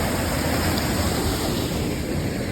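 Steady, full-bodied roar of a wide, deep waterfall at Uway-uway Falls, a constant rushing wash of water close by with no voices over it.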